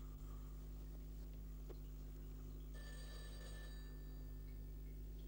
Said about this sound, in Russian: По-моему, звонок. Подойди к телефону.